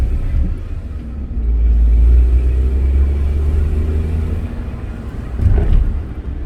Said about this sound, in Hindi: भाई स्पोर्ट मोड में तो ये गाड़ी एकदम भागती है मस्त